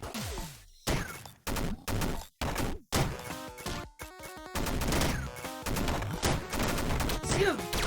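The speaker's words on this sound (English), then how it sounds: "So I touch the ground. Machine gun." Chiptune-style machine gun fire from the video game Downwell, heard as rapid clipped bursts and stuttering blasts broken by brief gaps, with busy game effects running throughout.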